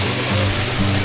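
River water rushes and churns loudly in a continuous broadband wash close by, with no speech.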